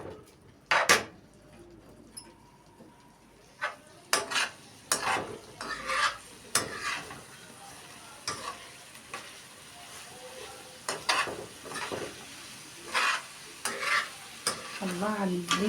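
Onions sauté in a pan for chicken shawarma, with a quiet sizzle broken by irregular scraping and knocking of a spoon against the metal, close and distinct with no talking.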